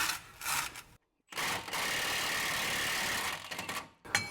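An impact wrench hammers at a stubborn Jeep track bar bolt, with short bursts and then a longer sustained rattling run of about two seconds, broken by brief pauses, close and loud.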